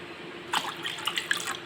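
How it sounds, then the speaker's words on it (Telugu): Water splashes and trickles briefly into a container holding tarnished silver items, close by, with small clinks and drips in a quiet room. "మునిగే వరకు అయితే వాటర్ వేసుకోవాలండి"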